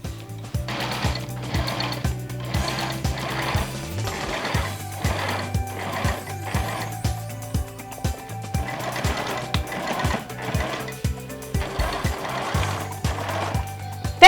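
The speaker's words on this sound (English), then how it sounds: "I'm top stitching on the yoke" Domestic sewing machine top stitching the yoke of a notched-collar shirt, a steady rhythmic needle chatter running in short repeated bursts, close and moderately loud with no voices.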